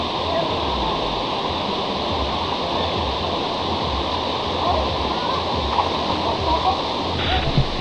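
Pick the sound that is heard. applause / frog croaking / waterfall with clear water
waterfall with clear water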